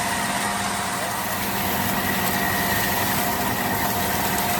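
A John Deere farm machine's engine runs close by with a constant, unbroken rumble and hum for the whole stretch.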